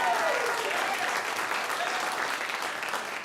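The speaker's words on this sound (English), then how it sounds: "You can clap for that, sure." Audience applause at a live comedy or storytelling show fills the room, a dense steady clapping that holds for a few seconds and slowly thins toward the end, with no one speaking over it.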